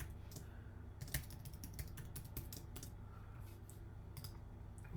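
Fingers type on a computer keyboard, entering an email address and password: a quick irregular run of soft clicks and key taps, close and quiet, with no talk.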